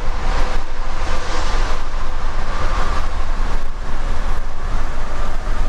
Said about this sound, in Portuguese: Esse barulho é do pneu de neve.